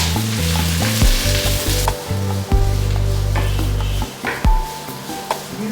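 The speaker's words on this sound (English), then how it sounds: "Then I'm going to add sliced onions." Sliced onions drop into hot oil with roasting chillies in a pan and sizzle loudly and close, with steady frying, a few stirring clatters and a low mechanical hum underneath.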